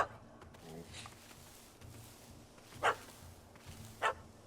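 A dog barks in The Witcher 3: Hearts of Stone, two short sharp barks sounding a little over a second apart over a quiet game ambience with faint low murmuring in the background.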